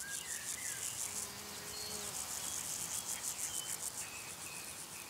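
Insects and grasshoppers chirp in a marshy wetland meadow of the Upper Rhine Valley, a dense, steady high-pitched pulsing chorus with faint buzzing flybys, moderately distant and without voices.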